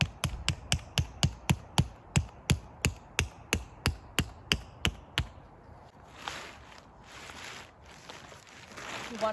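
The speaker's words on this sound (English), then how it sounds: "I would be hammering in the stakes if I do need to hammer them in with a rock" A rock hammers tent stakes into the ground while a trekking pole tent is pitched outdoors: about fifteen sharp, evenly spaced strikes, close and clear, then quieter rustling.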